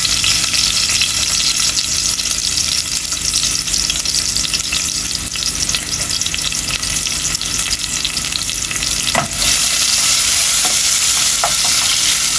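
Onions for a beef curry sizzle and fry steadily in a hot pan, a loud, dense crackle that holds for the whole stretch, broken once or twice by a brief stir, with no talking.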